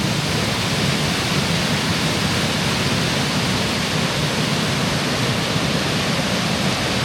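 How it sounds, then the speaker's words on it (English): Little Egypt Waterfalls in Tennessee, a steady broadband rush of falling water, loud and constant throughout with no variation or voices. "if you're real brave, you can ride the waterfall over"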